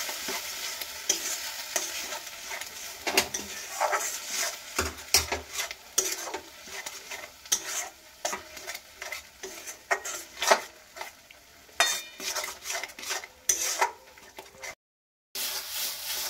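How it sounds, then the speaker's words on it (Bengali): Bengali bharta being stirred in a wok as its water cooks off, with repeated scraping and clattering spatula strokes over a soft sizzle, close and busy, broken by a brief dropout near the end. "সব কিছু দিয়ে নিয়ে খুব ভালো করে নাড়াচাড়া করব যতক্ষণ না জলটা শুকায়।"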